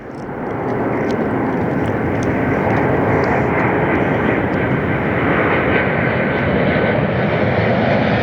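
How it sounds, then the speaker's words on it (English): A Southwest jet airliner roars past near Las Vegas airport, a loud, broad, sustained engine rumble building in the first second and holding steady throughout. "Even though it's a Southwest jet, we'll take it."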